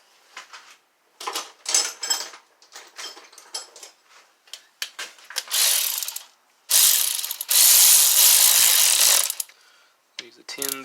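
Ratchet clicking in short bursts as a 10 mm fastener is snugged down on the cylinder head of a 2012 Mini Cooper, close and loud, with longer continuous runs of clicking near the end.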